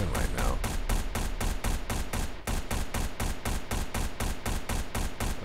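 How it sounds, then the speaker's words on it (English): Rapid, sustained automatic gunfire from the space-station game Space Station 13, loud and nearly continuous bursts at a steady quick rhythm with no voices over it. "he's shooting at something"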